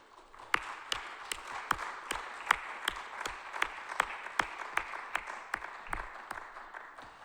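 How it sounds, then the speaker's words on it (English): Applause at the ECSS 2021 Informatics Europe general assembly, approving newly elected members: a small room of scattered claps with a few sharp, evenly spaced louder hits across the whole stretch, fairly near and steady. "As you can understand, the applause means that you have been approved."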